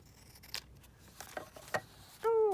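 Scissors snip through a 12 x 12 craft paper sheet, trimming off the top edge for a junk journal, in a few quiet close cuts, with a short burst of a higher voice at the end.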